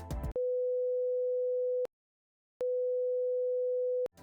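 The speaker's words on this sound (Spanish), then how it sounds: "dos ondas a 100 hercios con cualquier diferencia de fase suenan indistinguibles cuando se escuchan solas" Two steady 100 Hz sine tones differing only in phase, each a flat pure hum lasting about a second and a half, with a short silence between them and no voices.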